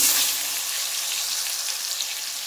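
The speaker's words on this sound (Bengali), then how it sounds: "তেল দিয়ে দুটো শুকনো লঙ্কা দিলাম, গোটা জিরে আর দুটো তেজপাতা দিয়ে একটু নাড়াচাড়া করে নেব।" Dried chillies, whole cumin and bay leaves sizzle in hot oil in a pan, a steady, bright, close crackle that starts slightly louder and then settles into an even hiss with no talking.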